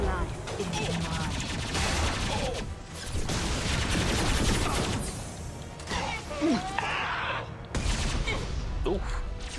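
Heavy gunfire and booming weapon blasts from a Mass Effect 2 battle during the Kasumi heist mission, dense and continuous with bursts of shots, impacts and whooshes, with voices over the combat.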